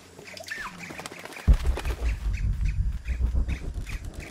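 Shrill bird squawks in Shadow of the Tomb Raider, one drawn-out call near the start followed by repeated clipped squawks over a loud low rumbling game ambience, fairly close and prominent.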